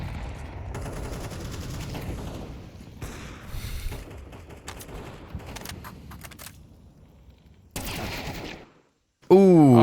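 Gunfire in an esports Counter-Strike match from the CCT Season 2 Europe playoffs, with bursts and single rifle shots popping under excited casters' commentary, then a short pause and a sudden loud electronic effect at the end.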